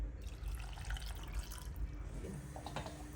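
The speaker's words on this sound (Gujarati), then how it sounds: "પછી એક ગ્લાસ પાણી નાખીશું" A glass of water pours steadily into a pressure cooker holding jaggery, dates and tamarind, a soft continuous flow with faint dripping, quiet and close.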